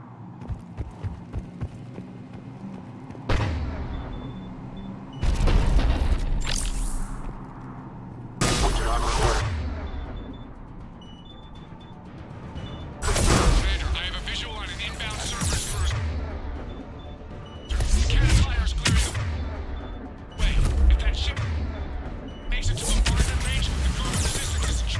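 Cannon blasts and gunfire boom in bursts during a video game battle. Several loud explosive clusters arrive at irregular intervals, with game voices and ambient hum in the quieter gaps.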